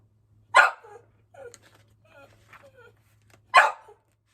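A dog indoors gives two loud, sharp barks about three seconds apart, with soft whimpers and small vocal noises in between over a low steady hum.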